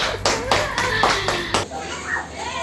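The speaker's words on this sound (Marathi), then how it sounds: "टाळ्या वाजवा." About six sharp hand claps ring out in quick, even succession, close by during a family pre-wedding Kelvan visit at a sister's house, followed by a voice speaking.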